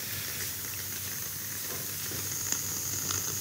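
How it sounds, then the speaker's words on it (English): Sonified oscillations of a star, four years of brightness variation compressed into two minutes, come through as a steady crackly hiss like a scratched record, with a faint high whine rising toward the end. "that is the sound of such a star following our best model"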